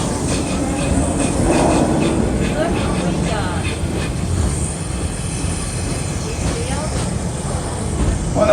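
A tour train rolls through a zoo park with a steady low rumble and rattle of cars and wheels, faint squeals now and then, while a guide's voice talks over it throughout.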